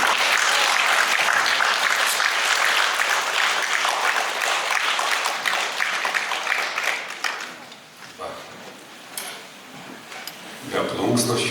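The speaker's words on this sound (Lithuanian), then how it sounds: "ir aplodismentai" Audience applause fills a hall during a newspaper readers' meeting in a synagogue, dense and steady at first, then thinning out near the end with a brief renewed burst.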